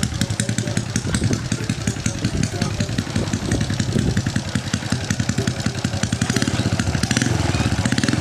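A Honda Dream motorcycle engine idles close by with a rapid, even putter, revving slightly toward the end before pulling away; people talk over it.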